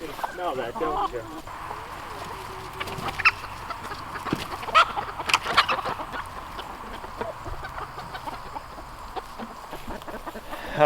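Backyard chickens cluck over steady outdoor background noise and a person talking, with occasional sharper squawks standing out.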